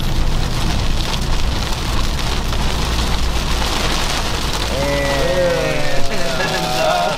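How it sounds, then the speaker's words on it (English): Steady rain pattering on surfaces, a continuous hiss of drops heard up close, with a faint tonal hum or whine entering near the end and no clear talk. "it's raining"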